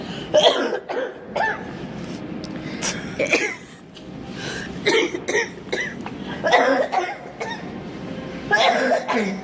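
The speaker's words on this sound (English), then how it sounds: "wait, I gotta cough" A person coughs repeatedly in harsh, uneven bursts, mixed with throat clearing, close to the listener.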